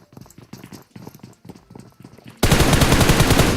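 Gunfire in PUBG Mobile, a few spaced clattering single shots followed by a sudden loud burst of rapid automatic fire that continues to the end, close and harsh.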